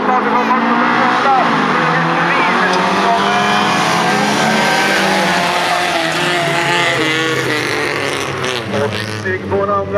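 Veteran folkrace cars launch together from the start of a race heat at Tidaholm, engines roaring loudly and continuously with revving and tyre noise, while a commentator talks over the din throughout.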